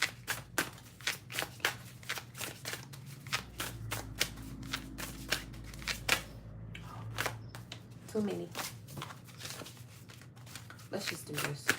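Repeated crisp riffling and slapping of large, stiff cards being shuffled, in quick irregular bursts, close up, with a brief spoken remark midway.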